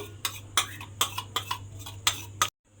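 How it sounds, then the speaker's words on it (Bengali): Banana flower masala paste goes into a big bowl, marked by about eight sharp, evenly spaced clinks and taps of a utensil against the container, close and clear, ending abruptly. "এবারে মশলাটা আমি একটা বাটির মধ্যে ঢেলে নেব বড় বাটির মধ্যে"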